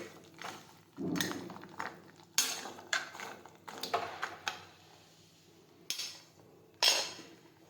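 In a pressure cooker, boiled groundnuts are stirred with a metal spoon. Scattered scraping clinks and sharp knocks against the pot come close by at an uneven rhythm, with quiet gaps between them and no voices.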